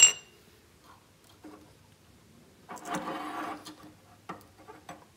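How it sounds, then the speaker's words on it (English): An electric hot water tank's heating element is unscrewed, giving a short, close burst of metallic grinding and scraping in the middle, followed by a few sharp clicks in otherwise quiet surroundings. "Remove the two wires and unscrew the element."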